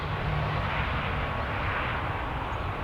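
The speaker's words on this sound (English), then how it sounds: "quick close-up of the old reverse thrusters there" Jet airliner reverse thrusters roaring at Stansted Airport, a steady, dense broadband engine rush that holds at constant loudness throughout, heard from outdoors with no voices.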